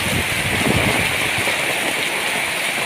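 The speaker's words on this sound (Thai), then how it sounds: "เราจะตัวกลัวลมกลัวฝนมาทั้งลมทั้งฝนเลยนะคะ" Heavy rain pours steadily in a dense, continuous roar, with a gusty rushing layer of wind mixed in; no voices.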